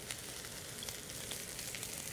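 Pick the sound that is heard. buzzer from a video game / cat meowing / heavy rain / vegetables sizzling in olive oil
vegetables sizzling in olive oil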